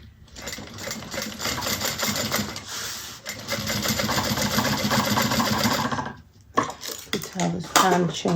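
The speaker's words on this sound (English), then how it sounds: "And now we're going to top stitch." A sewing machine top stitches a folded edge on a Brunella handbag, running in a long steady whir for about six seconds, pausing briefly, then resuming in shorter bursts.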